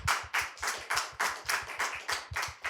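Audience claps at an awards ceremony, the ACMies 2025, in about ten regular bursts of bright, fairly close handclaps, no voices over them.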